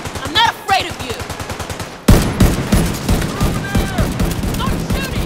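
Rapid automatic gunfire from The Division 2 rattles in dense bursts, a lighter volley first, then a louder sustained fusillade from about two seconds on, with game voices calling out in between.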